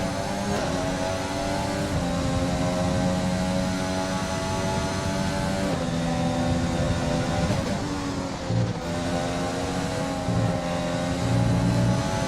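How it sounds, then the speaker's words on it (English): A Honda-engined Formula 1 car in the F1 2020 video game drones with a steady, continuous purr that stays level throughout, with faint shifts in pitch and no talk. "it does sound nice with a little purring from the Honda engine"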